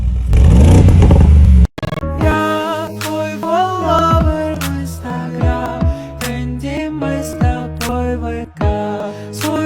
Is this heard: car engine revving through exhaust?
yes